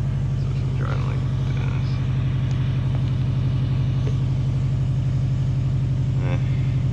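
Engine drone of a car driven in a video game, a loud steady hum running unbroken throughout, with faint talking mixed in beneath it.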